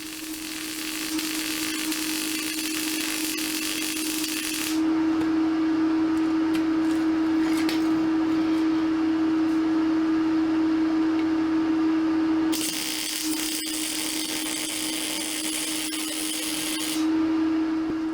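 Spacers welded onto a Jeep WJ steering knuckle with short weld passes: a steady electrical buzz and crackle running in two bursts separated by a quieter humming stretch, with no talking.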